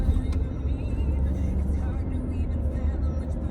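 A Lexus NX 300h driving on roads near Belgrade, Serbia, heard from inside the cabin as a steady low road and engine rumble that stays continuous and fairly loud throughout.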